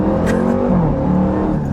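The engine of a 2025 Dodge Durango Hellcat roars loudly and steadily under hard acceleration, a dense, continuous growl with no talk over it.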